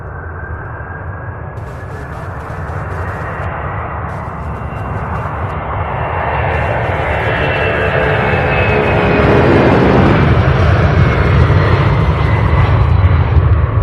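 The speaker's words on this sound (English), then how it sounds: "Beautiful takeoff." Jet airliner taking off at Louisville International Airport, a loud, steady engine roar that swells over several seconds and holds strong throughout, with no talking.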